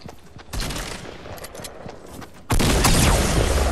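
Rapid gunfire in a Fortnite Battle Royale match on PS4, sustained crackling bursts that jump sharply louder and denser partway through, with no talk over it.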